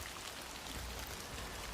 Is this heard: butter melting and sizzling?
no